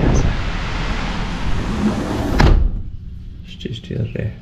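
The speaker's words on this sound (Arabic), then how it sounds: "شتي شتي الريح" Loud gusting wind and rain outdoors in cold weather, a broad roaring rush that swells and then drops away suddenly, leaving faint scattered sounds after.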